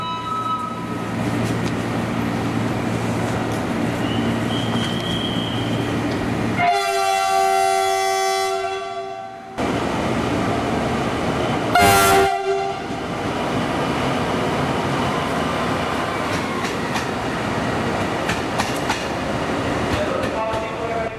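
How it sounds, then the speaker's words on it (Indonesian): CC300 diesel locomotive working on a railway track at a Jakarta station, with a steady engine rumble, two loud horn blasts in the middle, and rail clatter continuing throughout, with some background voices. "Dan lokomotif C300-1203-nya sudah berada di Jalur 7."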